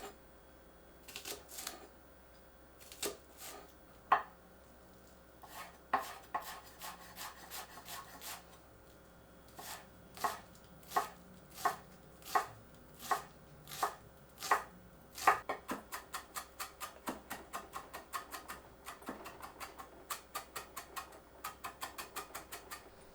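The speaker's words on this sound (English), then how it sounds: "Next, peel and mince shallot." A knife mincing shallot on a cutting board: a few spaced taps at first, then sharp, evenly timed chops, finishing in a fast, steady run of close wooden knocks. No voices.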